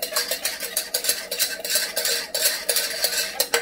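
A whisk scrapes and clatters rapidly against a metal pot as a thickening stew mixture is beaten off the heat, producing loud, close, rhythmic strokes throughout.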